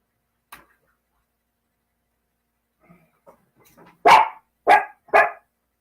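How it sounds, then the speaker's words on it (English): A 5-pound dog barks indoors: a faint yip and some soft scuffling noises, then three sharp, loud barks in quick succession, close by. "Stop your barking or come here."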